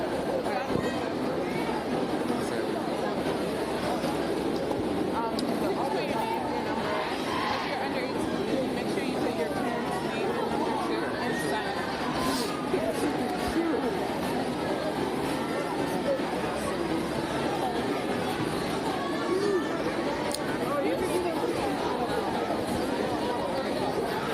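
Crowd at a civic demonstration, a dense, continuous babble of many overlapping voices at steady volume for the whole stretch, with no single voice standing out.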